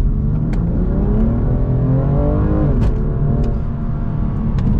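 A BMW M2 Competition, rear-wheel drive, accelerating hard on a curvy road: a loud, continuous engine roar climbs steadily in pitch, with a few sharp clicks or shifts, heard alone from start to finish.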